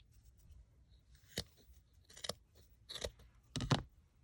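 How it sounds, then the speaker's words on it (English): Scissors snip through yarn while a tassel of wooden-bead craft decoration is trimmed, giving four or five crisp, separate cuts spread over a few quiet seconds with no talking. "And now at the bottom, you're just going to cut through."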